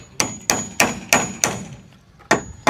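Hammer blows driving a chisel or spike in a Thai work setting, six sharp, ringing strikes in an uneven rhythm with a pause before the last ones, close and loud with no talk over them.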